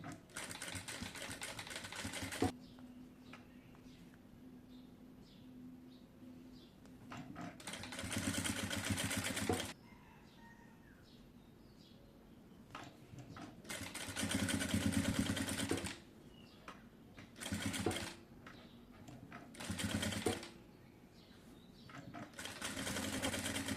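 A sewing machine stitches fabric for a neckline design in several short close bursts of rapid, rattling whirring, separated by quieter pauses with faint handling noises.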